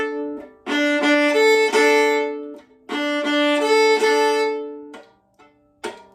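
Open strings on a viola bowed in a down-circle-drop-up pattern, from a Beethoven Symphony 5 third movement excerpt; sustained bowed notes come in two long phrases, each with the percussive bump of the bow dropping back onto the string, close and clear with no talk.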